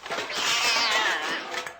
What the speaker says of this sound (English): Who let that cat in here?